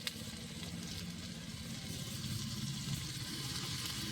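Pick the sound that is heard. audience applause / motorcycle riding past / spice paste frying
spice paste frying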